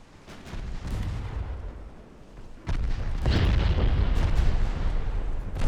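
A torpedo strikes a warship in Ultimate Admiral Dreadnoughts, naval battle 1904: a low rumbling boom swells midway into a loud, sustained blast with crackling bursts over distant gunfire.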